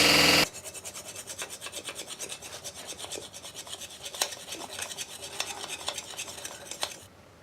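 Rust being scraped and filed off the contact points of a brake caliper on a 1990 K2500 pickup: quick, rhythmic metallic rasping strokes, close up and fairly faint, after a short burst of louder noise at the start, with no speech.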